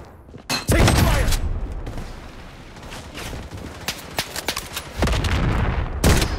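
Gunfire in the video game Blood Strike, with loud, dense bursts of rifle shots and heavy booming impacts, nearly continuous and close.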